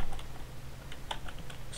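Light, quick keystrokes on a computer keyboard while entering commands in a terminal, a short run of soft clicks over a low hum.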